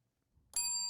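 A single bright bell ding rings out suddenly and clearly after near silence, used as a segue sound effect, with a sustained ringing tone.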